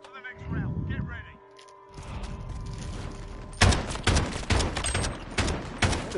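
Rapid bursts of gunfire from a Modern Warfare video game match, including a .50 caliber pistol, crack loudly and repeatedly in the second half, after a stretch of quieter game noise and a brief voice at the start.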